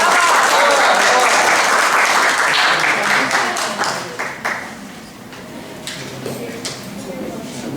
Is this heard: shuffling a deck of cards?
no